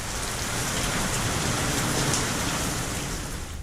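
Heavy unseasonal rain falls steadily in a downpour, a dense, loud, continuous hiss with no voices.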